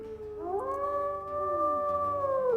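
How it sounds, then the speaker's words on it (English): A wolf in the video game WolfQuest lets out a single long, rising and sustained howl, loud and clear, with a second tone layered in and no talk over it. "Oh, let's howl back."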